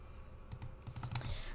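Typing on a computer keyboard, a quick run of soft clicks and taps following a quiet start, close and low in level.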